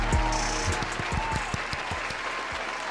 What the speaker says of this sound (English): Can we get a round of applause, ladies and gentlemen?